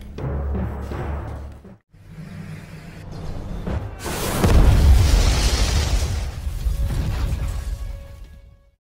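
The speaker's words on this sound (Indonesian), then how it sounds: "ia merencanakan akan meledakkan pondok tersebut" A cabin blows up in a film scene: a deep, heavy boom bursts out partway through and gives way to a long rumbling roar with crackling debris, preceded by low ominous rumbling.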